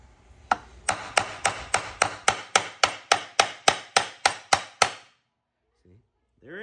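A spark plug tube seal is driven into an aluminum valve cover with a socket: about fifteen sharp, evenly spaced knocks in a steady rhythm, close and clear, then silence.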